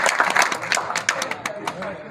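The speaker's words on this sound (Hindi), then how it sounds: "तालियां जोरदार तालियां होनी चाहिए" Applause from an audience at a National Safety Week award event in Jamnagar, a dense patter of clapping with a voice speaking over it.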